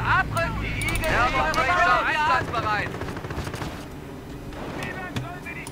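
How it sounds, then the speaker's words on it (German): Bursts of rifle and machine-gun fire crackle through a World War II strategy video game battle, layered under urgent soldier voice lines and a louder, dense opening before thinning into scattered shots. "Steh unter Gewehrbeschuss!"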